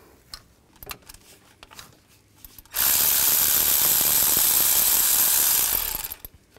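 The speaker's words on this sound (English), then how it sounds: "I'm just going to use a wrench so that I can get on there. Use a 10 millimeter wrench or socket." A 10 millimeter wrench or socket works a bolt on the engine of a 2007-14 GMC Sierra 3500HD, producing a loud, rapid ratcheting burst of about three seconds after some faint handling clicks.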